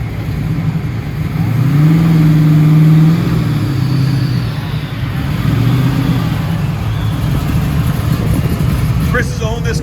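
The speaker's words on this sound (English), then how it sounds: "There he comes. Chris Humphreys, 1973 Camaro" A 1973 Chevrolet Camaro at an autocross event, its engine revving up and down in a couple of rising and falling pulls, close and loud, with an announcer talking over it.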